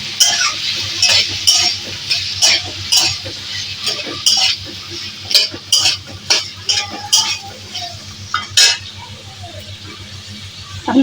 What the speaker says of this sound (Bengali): এখন কর্নটা দিয়ে দিচ্ছি, একটু ভালো করে নাড়িয়ে নিচ্ছি